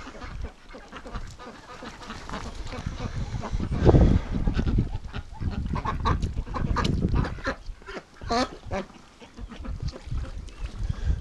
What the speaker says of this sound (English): Then we got these 3 crazy ducks here that are in the water.